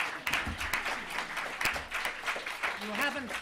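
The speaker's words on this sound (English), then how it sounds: "You have not got time for that round of applause." An audience at a literary festival talk on human rights breaks into a round of applause, moderately loud and partly mixed with someone speaking over it.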